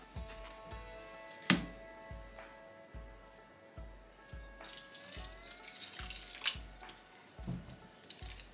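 Tap water runs into a dry soil-blocking mix being prepared for starting a garden, a steady faucet stream with wet squishing and a few clinks, no voices.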